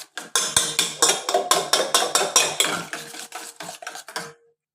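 A spoon beats sugar and a pinch of cardamom powder against a bowl, about twenty quick rhythmic metallic clinks, close and steady, slowing and fading at the end with no voices.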